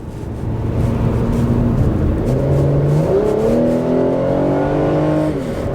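A Chrysler Sebring accelerates hard under throttle, its engine note climbing steadily in pitch with a loud, continuous drone and shifting tone throughout, heard alone with no talking.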